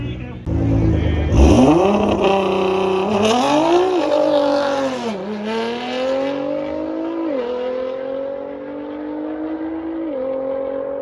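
A race car accelerates hard at a quarter-mile drag strip, its engine note climbing through several sharp gear changes and easing into a sustained, fading drone, loud and fairly close.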